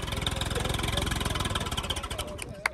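A New Holland 3630 or Sawraj 855 tractor engine runs close by with a rapid, pulsing diesel throb that holds at raised revs, then loosens and settles at the end.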